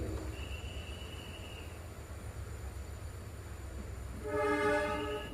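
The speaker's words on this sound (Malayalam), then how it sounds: "നിലമ്പൂരിലേക്ക് പോകുന്ന ട്രെയിൻ അപ്പോൾ വാണിയമ്പലം റെയിൽവേ സ്റ്റേഷനിൽ നിന്ന് വീണ്ടും പുറപ്പെട്ടിരിക്കുകയാണ്" A passenger train pulls out of Vaniyambalam station on the Shoranur–Nilambur line: a low, steady rolling rumble runs throughout, then a loud, sustained horn blast sounds near the end.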